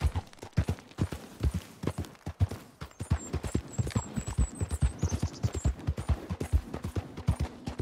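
Horse hooves trotting in Red Dead Redemption 2, a steady rhythmic clip-clop of rapid hoof falls close by, with faint jingling tack and low ambient hum underneath.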